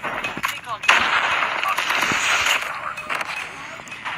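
Man o War rifle fire in Call of Duty Mobile, quick bursts of sharp shots and crackling impacts over a few seconds, with a player talking over the gameplay.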